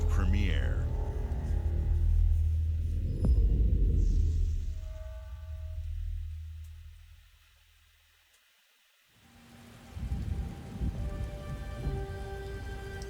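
Rain pouring in a video game trailer, a heavy, dense roar of rainfall with rumbling low end that fades to near silence before music-like sound resumes.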